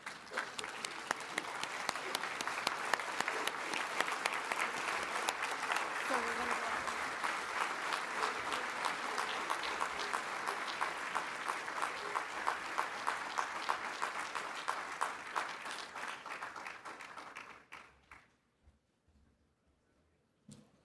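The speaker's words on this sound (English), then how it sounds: "join and rise with me as we thank and applaud our Army senior leaders as they exit the stage" Large indoor audience at an Army town hall forum applauding steadily for about seventeen seconds, dense even clapping that tapers off into near silence.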